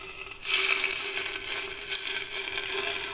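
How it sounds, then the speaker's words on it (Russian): Hot vegetable oil, heated but not boiled, is poured over cucumbers for a quick appetizer, giving a steady, close, crackling sizzle with a bright hiss that runs unbroken from start to finish, no voices. "Растительное масло мы подогреваем до горячего состояния, но не кипятим, и поливаем сверху."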